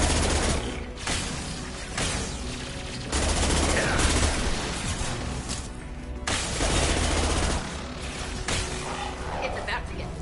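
Gunfire from the Mass Effect video game, from Legendary Edition combat: sustained bursts of shots and booms, loud and dense, with brief lulls between volleys and speech mixed in.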